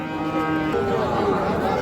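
A Friesian or crossbred cow lows loudly and close by at a busy rural cattle market, one sustained moo over a faint crowd murmur.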